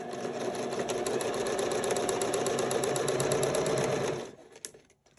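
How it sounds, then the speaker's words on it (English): A sewing machine stitches the band of a six-panel welding cap with a roughly half-inch seam allowance, a loud, steady motor hum and rapid needle patter running for about four seconds, then stopping, with a few brief clicks after. "So now we're going to sew our band together"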